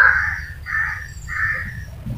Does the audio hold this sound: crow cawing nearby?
yes